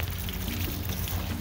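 Water pours steadily into plastic jugs being filled at an RV, a continuous close splashing rush with low rumble and no talk.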